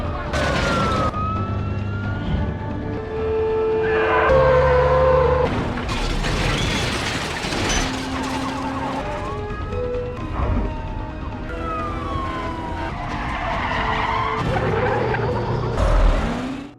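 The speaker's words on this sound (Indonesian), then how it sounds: "ia langsung mengendarai mobil damkar dan melajukannya dengan ugal-ugalan" A fire truck speeds recklessly to an emergency in an action film, with a loud wailing siren rising and falling over engine roar and harsh skidding noises.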